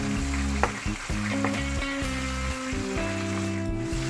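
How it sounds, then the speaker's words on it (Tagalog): Ginger and other ingredients toast for pakbet in a pan before the squash goes in, giving a steady close sizzle with a few scraping stirs over a low background hum, and no voices. "Ito toast lang natin ng 2 minutes bago ilagay ang kalabasa."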